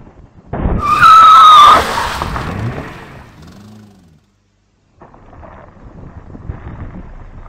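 A 2006 Mini Cooper R52 convertible drives a mountain hairpin road at moderate speed, its engine passing close and loud with a rising whine, then fading. A short silence follows before a quieter, steady rumble returns.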